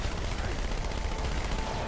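Sustained automatic gunfire from the shooter game Halo 2 Anniversary, a dense, unbroken roar of rapid shots at steady loudness.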